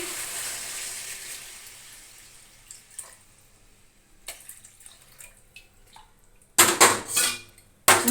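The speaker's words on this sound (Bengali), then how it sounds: "ঝোল দেখো ঝোল দিয়ে দিচ্ছি" Gravy being poured into a pan of fish curry, heard as clinks and scrapes of utensils against the pan, then a burst of splashing liquid and clatter near the end, no talking.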